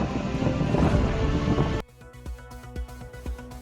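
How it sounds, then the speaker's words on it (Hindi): Heavy rain pours with a loud, rumbling roar of thunder for almost two seconds, then cuts off abruptly, leaving scattered sharp knocks and taps. "इस इलाके में लगातार भारी बारिश हो रही है"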